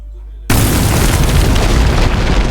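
A sudden loud grenade blast in a video game erupts after a brief quiet moment, followed by a sustained roaring rumble that fills the rest of the clip.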